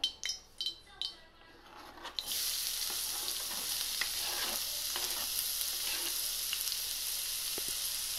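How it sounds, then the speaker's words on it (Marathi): Finely chopped onions dropped into hot oil in a wok for a Satara-style mahadya recipe, a few knocks and clinks first, then a sudden loud, steady sizzle that continues to the end. "आता आपण याच्यामध्ये कांदे मिक्स करून घेऊया"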